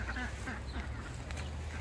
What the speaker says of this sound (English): Sorry, is that one duck.